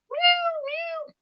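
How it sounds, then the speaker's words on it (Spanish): A single white kitten meows once in the grass, a clear, drawn-out call at close range with no other sound around it. "entre el pasto anda un gatito. Un gatito blanco, le llega el sol y se ve resplandeciente ese gatito. Y anda ahí maullando"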